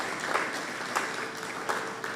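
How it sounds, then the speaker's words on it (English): An audience at an art collection handover ceremony claps steadily, giving a brief, dense round of applause with a few louder nearby claps. "Give them a round of applause."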